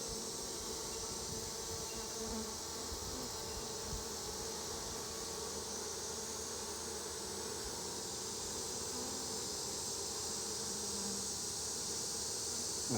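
A swarm of honeybees buzzes and fans around a pocket in a steady, dense drone that stays close and even throughout, with no voices.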